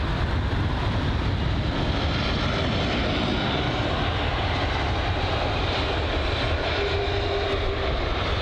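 A British Airways Airbus A319 roars at London Heathrow, a dense, continuous broadband engine rumble holding steady and loud throughout, with no talk over it.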